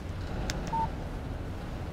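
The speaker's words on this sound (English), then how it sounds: "Text message from Barry" A short electronic phone alert chimes once for an incoming text message in the Alan Wake video game, a brief bright tone standing alone over a low steady background hum.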